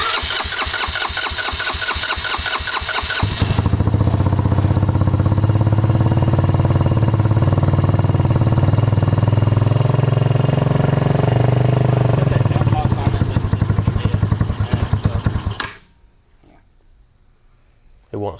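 Chinese 150cc ICE BEAR engine with a modified carburetor cranks and sputters, then catches and runs loud and rough near the microphone for about twelve seconds before abruptly stalling into quiet.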